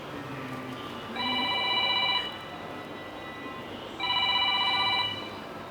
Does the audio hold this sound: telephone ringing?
yes